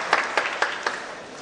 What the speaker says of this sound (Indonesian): Tepuk tangan untuk Betawi.